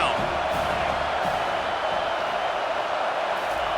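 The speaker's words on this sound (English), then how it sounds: "Decibels rising as the crowd gets behind this defense on 3rd down." A football stadium crowd in a college football video game, Penn State against SMU, roars on third down as a loud, steady, unbroken wall of cheering noise.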